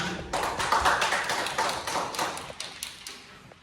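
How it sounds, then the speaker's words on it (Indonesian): A classroom group applauds, producing a brief burst of scattered, uneven claps that thin out and fade over a few seconds. "berikan aplaus dulu"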